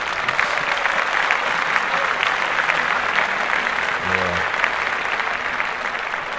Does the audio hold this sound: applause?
yes